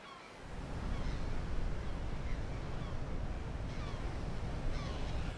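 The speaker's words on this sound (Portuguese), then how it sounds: "Ao longo de todo o litoral rochoso, as ondas estão cada vez mais fortes à medida que a maré se aproxima" Steady, continuous roar of waves breaking along a rocky coast as the tide comes in, a dense wash of surf with no voices.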